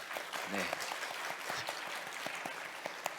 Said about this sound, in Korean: 우리 중고등부 학생들 환영하면서 박수하겠습니다.